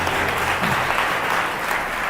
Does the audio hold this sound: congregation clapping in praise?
yes